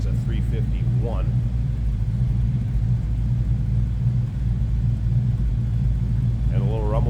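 A 1968 Ford Mustang coupe with a 351 V8 and C4 automatic idles with a deep, steady rumble, heard from behind the car. Someone speaks briefly over it at the start and near the end.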